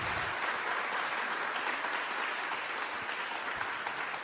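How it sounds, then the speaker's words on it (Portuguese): A church congregation at PIB de Teresópolis applauds in a steady, even wash of clapping that continues without pause, fairly faint and distant, with no voices over it. "uma salva de palmas para todos vocês aqui da PIB de Teresópolis"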